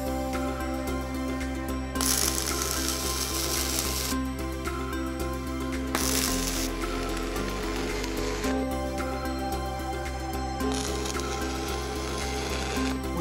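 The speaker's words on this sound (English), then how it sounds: "Then tack the backing bar to the plates in four places." Flux-cored arc welding tacks joining a backing bar to steel plates, heard as several loud crackling, sizzling arc bursts of a second or two each over a steady machine hum, no talk.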